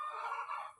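A tiger-breed chicken at a chicken farm and hatchery in Bagerhat gives one brief, faint, high call that trails off in under a second, with no talk over it.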